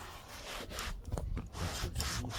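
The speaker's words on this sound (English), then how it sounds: "try and scrub as good as I can in between the cracks everywhere" Close scrubbing in between cracks, rough rhythmic brush strokes with uneven pauses, fairly quiet, no talking.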